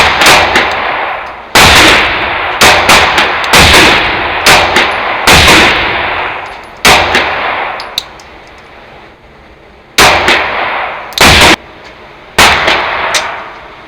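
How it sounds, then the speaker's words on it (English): Handgun shots ring out during a Dot Torture shooting drill, about a dozen loud, sharp reports in uneven groups with short pauses between them, each followed by a brief echoing decay. "You fire 5 shots, you practice your sight alignment, trigger control, breath control"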